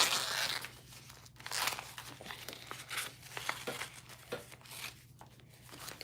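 Fusible interfacing peeling away from fabric during sewing, close by, with repeated crinkly tearing bursts over a steady low electrical hum.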